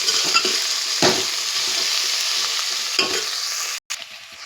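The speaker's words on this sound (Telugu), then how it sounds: "కొంచెం కలుపుకొని నూనెలో వేయించుకుందాం." Okra frying in oil in a pan, a steady loud sizzle broken by stir strokes near 1 and 3 seconds and a brief cutoff near the end, no voices.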